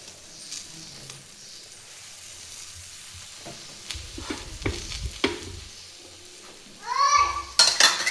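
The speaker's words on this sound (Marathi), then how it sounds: "मीडियम गॅसवरती छान अशी थालीपीठं खमंग अशी भाजेपर्यंत आपल्याला दोन्ही बाजूने भाजून घ्यायची आहेत." A bottle gourd thalipeeth roasts on a pan over medium gas with a faint, low sizzle, then louder scraping and clinking of utensils against the pan, and a brief burst of noise at the end.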